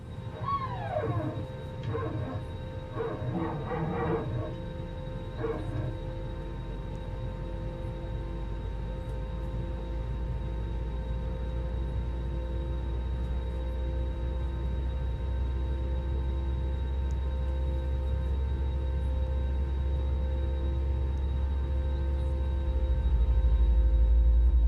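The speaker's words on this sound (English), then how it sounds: "Engine number 1 is available, starting engine number 2." An Airbus A330-900 jet engine spools up during start in the MSFS2020 flight simulator: a low rumble that builds slowly under steady humming tones, with a few brief chirps early on.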